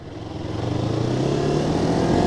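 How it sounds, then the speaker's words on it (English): A Kawasaki Ninja 250r motorcycle engine, close and loud, rising in pitch as the throttle is blipped during a downshift, with a steady rhythmic pulse and no speech. "I'm going to pull in the clutch, downshift, but I'm blipping the throttle at the same time"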